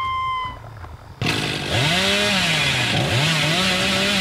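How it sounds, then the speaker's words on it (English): A loud chainsaw from the Hillbilly in the video game Dead by Daylight roars to life after a quiet second, then keeps revving with rising and falling pitch sweeps. "I'm getting used to the chainsaw."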